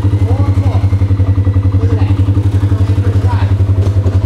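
A four-wheeler ATV engine chugs in a fast, steady rhythmic throb close by, loud and regular like an idling or slowly driven small motor, with a voice talking over it.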